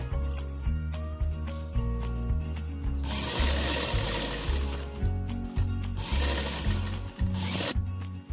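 A sewing machine stitching a kurti, running in rapid bursts of needle clatter with short pauses between runs, close and clear, with no talk.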